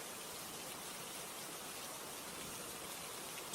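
Steady rain falling, a dense, even hiss of drops with no breaks or voices, moderately loud and constant throughout.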